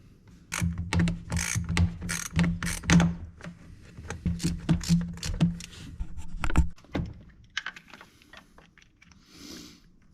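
Rapid ratchet clicks from an 11 mm socket loosening an intake tube clamp on a 6.7 Cummins, working in quick bursts of short strokes with brief pauses, close and crisp, trailing off into quiet at the end.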